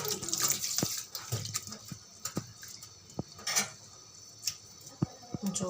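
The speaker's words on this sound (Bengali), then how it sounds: "পুদিনা পাতাগুলো এখন ধুয়ে নিব" Mint leaves being washed under running water in a home kitchen, faint tap water splashing with scattered light clinks and taps of handling, quiet and close.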